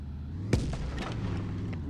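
A single sharp cannon-like boom from a video game cracks out once over a steady low rumble of background noise, moderately loud.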